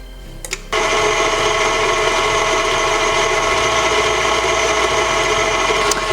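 An electric mixer beats softened butter for cookie dough, switching on after a brief quiet start into a loud, steady, close motor whir that runs evenly to the end.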